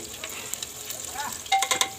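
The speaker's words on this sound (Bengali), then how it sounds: "এ পর্যায়ে তেল দিয়ে দিচ্ছে সয়াবিন তেল" Soybean oil sizzles softly in a pressure cooker, a faint steady hiss broken by a few sharper crackles near the end.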